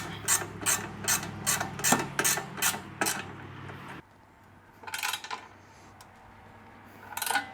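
A ratchet tightens a 12mm bolt and 13mm nut on the intercooler mount of a 2022-or-later Subaru WRX, giving a rapid run of sharp, even clicks close up, then a pause and two shorter bursts of clicking.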